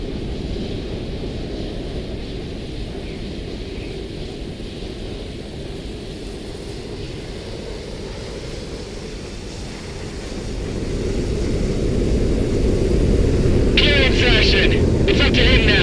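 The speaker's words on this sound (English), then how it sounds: "That backwash when that plane comes in will send you flying!" An airplane comes in to land in the combat flight game Project Wingman: Frontline-59, heard on PC. A broad, steady roar underlies the scene and swells louder in the last seconds, with faint radio-like chatter and wind noise.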